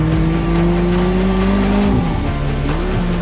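A McLaren Artura car drives with a steady, loud engine drone that shifts pitch partway through, with no talking over it.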